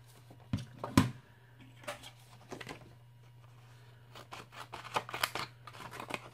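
Scissors cut paper up close for a bag journal craft project in a few sharp snips, then a series of quieter, quicker cuts and rustling, soft overall.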